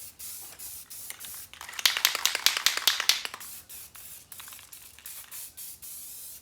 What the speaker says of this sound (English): take our rust converter and treat this on both sides